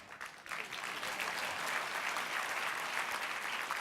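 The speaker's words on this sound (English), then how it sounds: "But of course, yes, you can applaud." Dinner crowd at a Pride Agenda fall gala applauding the New York City mayor, clapping swelling quickly after a brief quiet start and then holding as a full, steady ovation.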